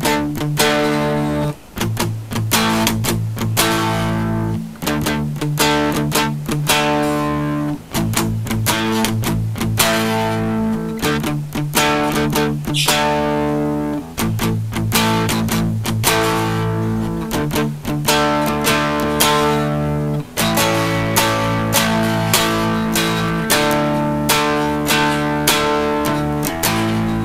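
An electric guitar plays a driving rhythm part through a Boss DS-1 distortion pedal, with dense, heavily distorted chords struck in repeated patterns, loud and continuous throughout with short breaks between phrases.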